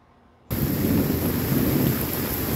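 Heavy rain starts abruptly after a brief quiet moment and continues as a loud, dense, steady hiss and rumble, with no voices.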